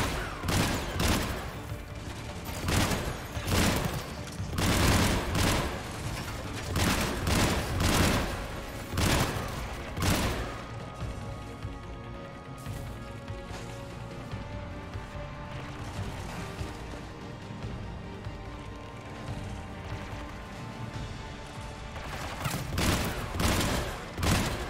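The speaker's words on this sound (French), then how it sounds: "Et la puissance de ces tirs." Weapon gunfire in the video game Mass Effect 3: repeated loud bursts of shots and booming impacts come in irregular clusters, thinning out midway before picking up again, under a steady background din.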